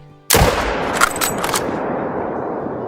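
A single loud .375 H&H rifle shot in the hunting game Call of the Wild, with a sharp blast followed by a long rolling echo that fades slowly across the open landscape.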